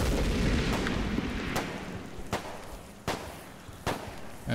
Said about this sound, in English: I'm gonna throw another grenade.